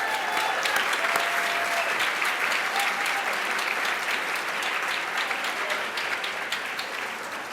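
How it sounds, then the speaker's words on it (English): Audience applause fills a hall at a business and humanitarian awards ceremony, dense sustained clapping from a large crowd that holds steady and tapers slightly toward the end. "Let's have another round of applause for Gina,"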